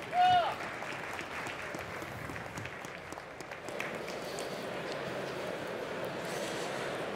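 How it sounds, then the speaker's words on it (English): An audience at the Slush 2023 startup semifinals applauds a speaker, a dense, steady wash of clapping from a large crowd lasting several seconds, moderately loud and even throughout. "Give a huge round of applause for Electra."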